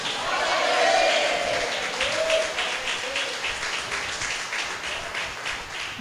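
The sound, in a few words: church congregation applauding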